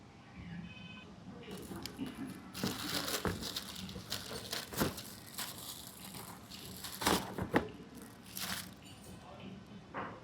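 Plastic packaging holding brake and clutch lever protectors for a Himalayan 452 motorcycle crinkles and rustles as it is opened, with scattered crackles and taps, close and moderately loud.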